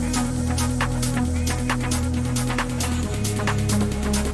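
An electronic remix build-up plays at steady full loudness, with snares, rising risers, sustained pads and chopped vocal fragments layered over a deep bass line that shifts pitch partway through.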